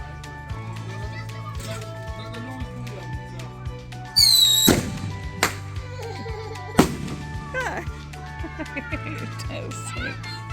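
July 4th fireworks and firecrackers popping at a backyard celebration, sharp cracks scattered through the clip with a louder burst partway, while children play and talk nearby.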